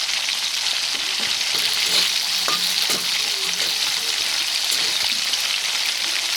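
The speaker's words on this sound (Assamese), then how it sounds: "এতিয়া আমি কাটি ৰখা আলুখিনি অকণমান ভাজি লওঁ।" Cut potatoes fry in hot oil, a dense, even crackling sizzle, close and loud throughout with occasional stirring knocks.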